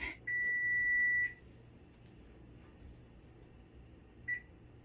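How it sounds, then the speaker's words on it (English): A kitchen timer gives one steady, piercing electronic beep lasting about a second, then a single short chirp a few seconds later, both fairly quiet over a low background hum. "I'm gonna set the timer for 7 minutes"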